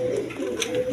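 A pair of Kashmiri racer pigeons in surma colour, cooing softly and steadily at close range through one continuous low murmur, with no talk over it.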